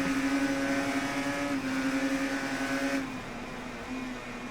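A Yamaha motorcycle engine in the racing game Ride 3 holds a steady, high-pitched whine near constant revs, dropping in pitch as the rider eases off partway through.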